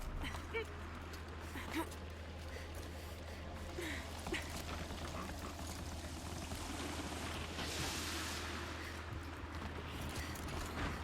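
Steady, broadband rushing of a waterfall in Horizon Zero Dawn fills the whole stretch at an even, moderate level, with no voices over it.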